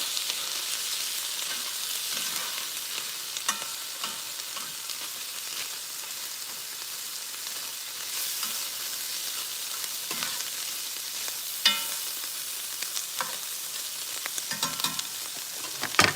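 Food browns in a frying pan for dinner, giving a continuous soft sizzle and hiss, broken by occasional stirring clicks and scrapes near the end; close, even and without speech.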